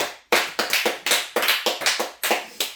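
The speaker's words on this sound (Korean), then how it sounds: "하나님께 영광의 박수 올리겠습니다" Steady rhythmic clapping, about a dozen crisp claps in a regular beat, close and fairly loud with no voices.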